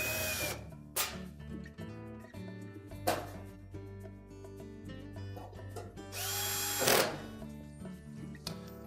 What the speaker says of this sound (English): And then just secure it with the screws.